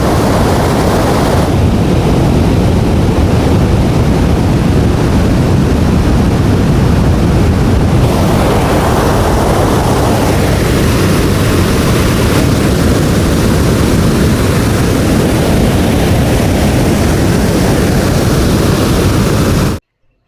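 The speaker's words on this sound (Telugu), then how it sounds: "ఈ వాటర్ ఫాల్ దగ్గర నీటి ఉధృతి చూసారా ఎంత ఎక్కువగా ఉందో." A powerful, constant roar of a waterfall in heavy flow at Valasampeta fills everything, loud and close, with wind buffeting the microphone throughout.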